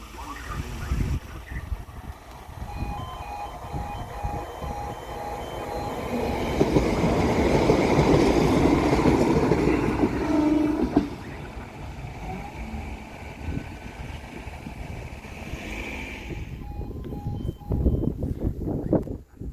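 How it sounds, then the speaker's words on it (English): A train rolls through a level crossing at Collingham Station in Nottinghamshire, its roar swelling to a loud, close pass mid-clip with wheel rumble and squeal, while crossing bells and alarm tones ring steadily throughout and a voice speaks briefly. "Here's the train."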